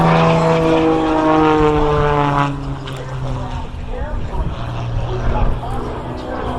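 A loud aerobatic propeller airplane engine drones steadily at an air show, then changes pitch as the aircraft maneuvers.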